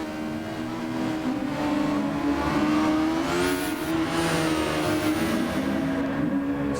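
Several race cars in the AOR GT Super Formula series thunder down the Kemmel Straight at Spa-Francorchamps in a racing video game, engines droning loudly and steadily, one pitch climbing as a car closes up in the slipstream.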